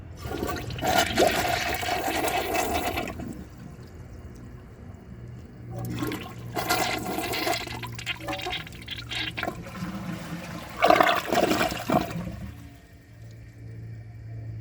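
A 1999 Crane Hymont toilet flushed on a partial tank: a rushing flush and quick siphon, then gurgling and tank refill with bursts of water, fairly close and alone with no talk.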